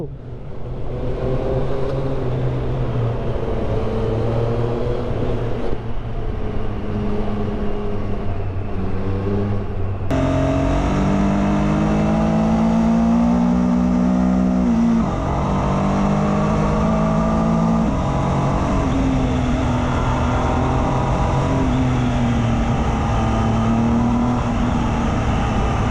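Triumph Street Triple motorcycle ridden through city streets, the engine heard close and loud with a steady drone that rises and falls through gear changes, revving up after a sudden shift in tone.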